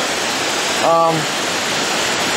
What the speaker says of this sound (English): You can see the waterfall really, it's not that tall, but it's quite impressive